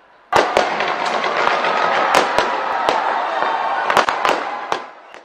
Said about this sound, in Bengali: 2025 সালকে বরণ করা হয় অকল্যান্ডের স্কাই টাওয়ারের আতশবাজি উৎসব দিয়ে।